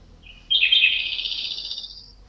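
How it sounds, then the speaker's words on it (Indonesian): A small bird gives a high, bright chirping trill that lasts about two seconds, fairly close and clear over a quiet background. No one speaks. "Itu burung siapa itu?"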